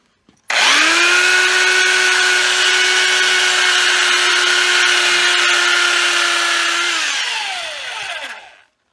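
A power sander whines loudly at a steady pitch for several seconds, then winds down as the motor spins to a stop.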